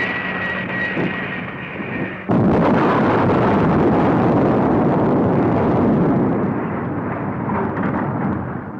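A huge explosion booms as an airplane crashes into the ground in the 1965 monster film Giant Monster Gamera. A loud, sustained roaring blast follows a fainter engine-like drone, rumbling on for several seconds before slowly fading.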